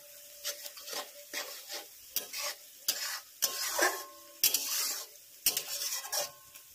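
Onions fry in a pan while a spoon stirs them in repeated rhythmic scraping strokes, each a rasping burst over a low background sizzle, close and clear.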